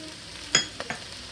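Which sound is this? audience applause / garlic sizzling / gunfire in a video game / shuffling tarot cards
garlic sizzling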